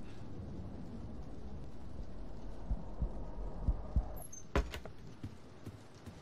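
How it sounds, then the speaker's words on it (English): A low, throbbing heartbeat pulses in the Roblox horror game Doors, with a steady low hum under it and a few louder thumps near the middle, followed by a brief sharp high tone and clicks. "Why was my heart beating in the mirror?"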